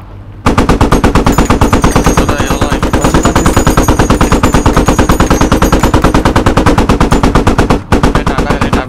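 Gunfire in the video game Squad during a battle with a BMP nearby: a loud, continuous machine-gun burst that rattles rapidly for several seconds, with one brief break near the end.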